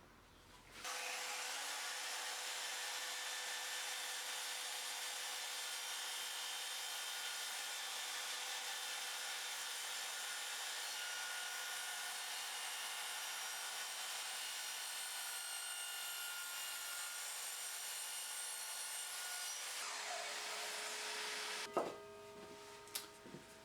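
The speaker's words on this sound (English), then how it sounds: "So that is a mitre cut." A sliding mitre saw makes a mitre cut through wood, giving a loud, steady high-pitched motor whine for about twenty seconds that winds down, followed by a few clicks and clunks.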